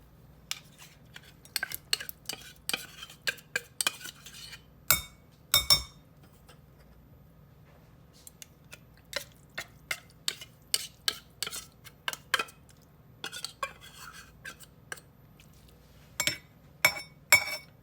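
Drained tuna tipped and scraped from a can into an old vintage bowl: a run of short, sharp metallic clinks and scrapes in irregular bursts, close and fairly quiet, with a low steady hum beneath and no talking.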